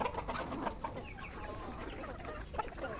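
A flock of backyard chickens clucks continuously nearby, with overlapping calls and short squawks and no one talking.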